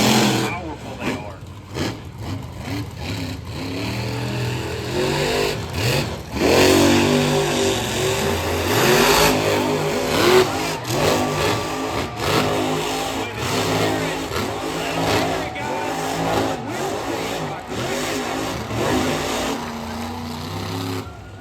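Monster truck engines at a monster truck and van race event rev repeatedly in loud, surging bursts, rising and falling over about twenty seconds, heavy and close.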